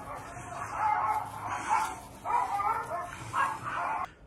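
Dogs barking next door during outdoor car wheel rim cleaning: several short bursts of barking in a loose, irregular rhythm, fairly close and moderately loud.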